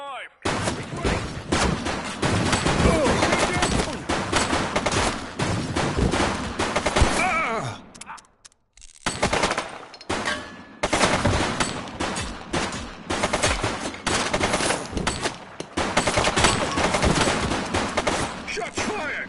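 Dense, loud gunfire in The Precinct police game, bursts and volleys of shots firing almost nonstop with a brief lull midway, voices shouting underneath.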